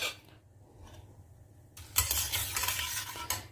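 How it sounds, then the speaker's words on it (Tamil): Mustard seeds, urad dal and chana dal in hot oil, a quiet stretch followed by a sudden burst of loud crackling and spluttering sizzle that carries on up close, with no talking. "கடுகு பொரிய ஆரம்பிச்சிடுத்து, பருப்பெல்லாம் செவக்க ஆரம்பிச்சிடுத்து."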